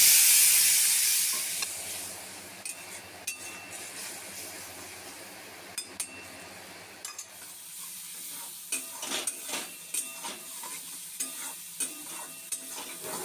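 Ground turmeric, salt, chilli, cumin, ginger and garlic masala for katla fish sizzles and hisses in a hot pan, loud at first then settling into a steady fry with repeated clinks and scrapes of stirring.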